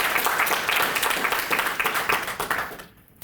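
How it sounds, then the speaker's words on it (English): Audience applause at an evening prize lecture, steady dense clapping from a seated crowd that fades out near the end. "Why don't we give them a round of applause?"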